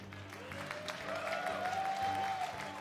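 Applause and cheering from an esports crowd at the Homestory Cup StarCraft event, a steady sustained wash of clapping with no gaps.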